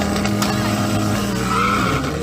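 A modified supercar launches in a drag race, tires squealing and skidding over a steady, loud engine roar that holds for about two seconds.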